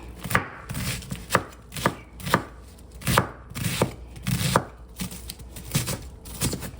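Taco salad toppings being chopped finely with a knife on a board. About a dozen close, sharp thuds fall in a steady, fairly quick rhythm, each standing out clearly.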